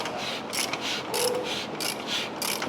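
Range Rover SVR engine being rotated by hand at the crankshaft during a rebuild, giving a run of soft ratcheting mechanical clicks in regular bursts, close up and alone.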